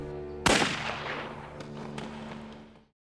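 A single sharp gunshot cracks out, then a long echoing tail fades over a low steady hum until it cuts off.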